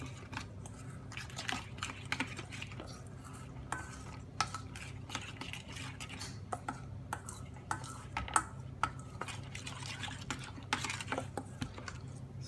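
A spoon stirs a beef vindaloo spice paste of cumin and other ground spices loosened with a few tablespoons of water in a small bowl, giving quiet, close, irregular scraping and clinking taps throughout with no talking.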